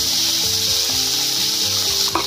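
Ground masala hisses and sizzles in hot oil in the pan while prawn curry is being made. The frying is loud and continuous and runs the whole time, with occasional soft scraping from stirring and no talk.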